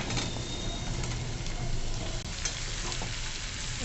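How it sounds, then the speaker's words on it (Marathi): Chopped red pumpkin sautéing in hot oil over a tempering of spices, a steady close sizzle and crackle with faint stirring throughout, with no talk. "तर तेलावर अगोदर छान परतवून घ्यायचा"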